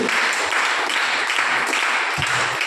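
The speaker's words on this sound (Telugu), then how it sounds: "ఆయన చప్పట్లు కొట్టి గౌరవించండి." A church congregation claps together in sustained, steady applause that fills the whole moment, a dense wash of many hands with no break.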